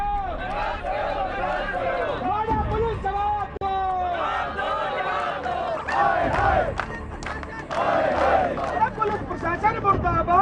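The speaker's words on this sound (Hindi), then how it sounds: "सैकड़ों की तादाद में बीजेपी कार्यकर्ताओं ने थाने का घेराव कर दिया और पुलिस के खिलाफ जमकर नारेबाजी की।" Hundreds of BJP workers surrounding a police station chant slogans against the police, a dense, loud crowd of overlapping shouting voices in rhythmic bursts throughout.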